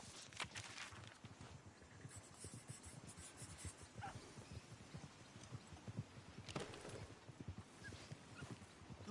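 Horse hooves clip-clop along a track in a PS4 video game, a busy rhythm of repeated steps mixed with other game sounds and animal noises at moderate level, with no speech.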